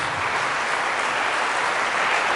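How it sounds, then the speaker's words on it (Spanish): Loud, steady applause from a church congregation at a religious service, a dense wash of clapping filling the whole moment without any talk. "Fuertes aplausos a Jesús"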